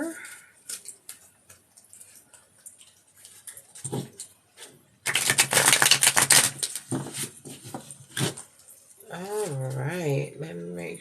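UNO cards being riffle-shuffled and bridged at close range, a dense crackling burst of snapping cards followed by shorter riffles, with a person talking briefly at the end.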